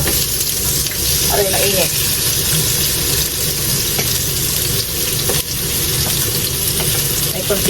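A heap of onions for a Japanese okonomiyaki sizzles loudly and steadily in a hot pan as it is stirred. A voice speaks briefly over the continuous frying hiss.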